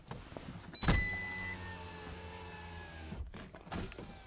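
Power windows on a Maruti Suzuki Ignis whir shut one after another as the car is locked: a sharp clunk of the lock, then a steady motor hum with a fading whine, followed by further short motor bursts near the end, no talking.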